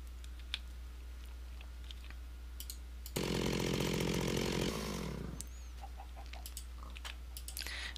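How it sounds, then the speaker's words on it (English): An Industrial Craft 2 chainsaw from the Minecraft mod buzzes in a single sustained burst of about two seconds amid quiet game ambience and faint clicks, steady and loud, then winding down. "if you don't like the sound of the chainsaw, or if it's too loud, you just want to get rid of it"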